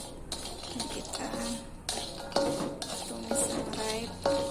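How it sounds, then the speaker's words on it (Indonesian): Ingredients being stirred as they dry-fry over low heat in a dark, well-used wok for beef krengsengan, with repeated scraping and clinking of a utensil against the metal pan, steady and close. "kita sangrai dengan api kecil ya Mams"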